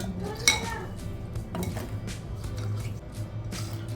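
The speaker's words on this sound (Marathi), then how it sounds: "आता आपण हे मिक्सरमध्ये टाकूया, खोबरा टाकूया आपण" Coconut pieces and other ingredients for solkadi go into a mixer jar, giving a few light clinks and knocks against the container, with one sharper clatter near the start, over quiet kitchen background.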